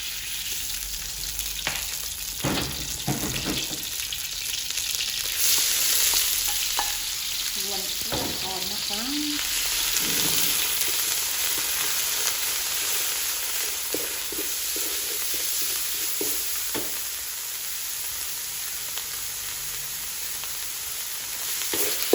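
Spicy pork leg curry stir-fried with kaffir lime leaves, a steady sizzle and frying hiss running throughout with repeated scraping stirs of a spatula in the pan, close up.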